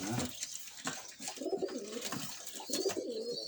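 Van pigeons coo in repeated soft, rolling calls at close range, with rustling and faint background noise from a loft and no clear talk.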